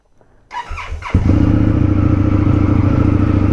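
A 2023 Indian FTR 1200 Carbon R motorcycle cold-starting with its exhaust baffles removed: a brief starter whir, then the engine catches into a loud, steady, close rumbling idle.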